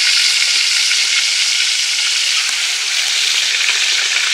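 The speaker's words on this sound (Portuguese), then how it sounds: "Colocar o peixe para fritar. Muito lindo esse barulho, né?" Fish frying in a home kitchen pan, a steady, dense close-up sizzle and crackle that holds evenly throughout with no talking over it.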